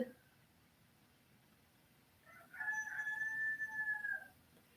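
A single rooster crows once in a long, drawn-out call at moderate distance, rising out of a quiet rural background after a few seconds of near silence.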